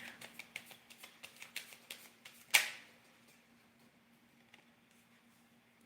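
Tarot cards are shuffled by hand in a steady series of soft, close flicks and slides over a faint low hum, ending with a sharp slap as the deck is set down, then near quiet.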